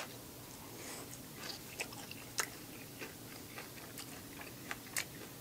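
Close-up mukbang chewing of dropped food, with Chinese dishes such as kkanpung shrimp and yangjangpi on the table; soft irregular crunchy bites and mouth clicks, quiet and near, with no talking.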